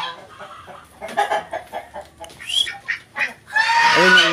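Brahma chickens cluck close by in a run of short, uneven calls, ending in a louder, drawn-out squawk, with no talking.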